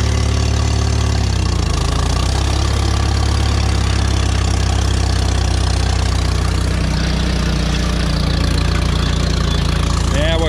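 A Farmall M tractor engine runs steadily while harrowing a field, a loud, close, low chugging drone with a brief shift in load early on, continuing without break under occasional voices.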